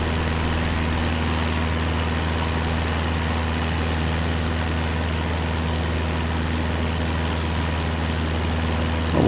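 An aircraft engine idles in a flight simulator game, a steady low drone with constant tonal hum that stays even and fairly loud throughout, with no voices.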